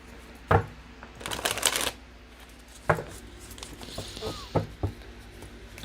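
Tarot cards from a Reconciliation deck by Pretty Spirits being shuffled close up, a few riffling bursts and soft taps with quiet pauses between them.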